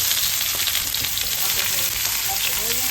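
Onion and bell pepper fry in hot olive oil, giving a loud, steady, dense sizzle that runs close and unbroken throughout, with no voices.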